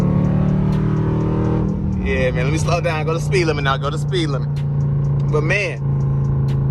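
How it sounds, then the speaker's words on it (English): A 2021 Dodge Durango RT with a straight pipe exhaust cruises along, its deep steady engine drone rumbling constantly beneath someone talking from inside the cabin. "I know y'all hear the exhaust"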